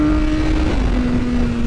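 A 2022 BMW S1000R motorcycle engine idles steadily nearby with a smooth, even hum and no talking.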